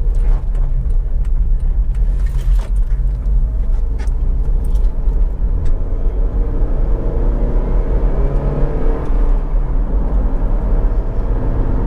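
Cabin of a 2007 Honda CR-V 2.0 i-VTEC EX on the move, a steady low road rumble with muted wind and tyre noise and an almost inaudible engine, continuous and fairly loud throughout with no talking.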